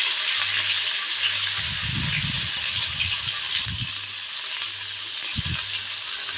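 Garlic-ginger paste frying in hot oil with mustard seeds and cumin, a steady close sizzle throughout, with a few low bursts of louder spattering as it is stirred in the pan.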